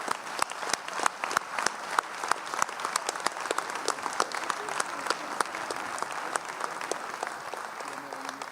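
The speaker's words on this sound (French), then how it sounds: "On peut l'applaudir." An audience at a town New Year's greetings ceremony applauds steadily for the whole stretch, a dense, even patter of many hands at moderate distance.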